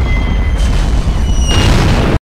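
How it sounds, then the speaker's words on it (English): An artillery barrage in a Vietnam War Medal of Honor game, heard as loud, close booming explosions rolling together into a continuous heavy roar that cuts off abruptly at the end. "Well, we survived that first artillery barrage"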